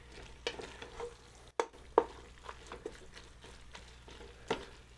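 Teriyaki sauce with mushrooms and noodles being stirred in a pan, giving soft scraping strokes and light clicks at an uneven pace over a low sizzle, close and fairly quiet, with no talking.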